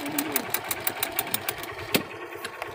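A motorcycle engine with a fault runs steadily nearby, its rough idle broken by regular knocking pulses and a sharper rev near the middle.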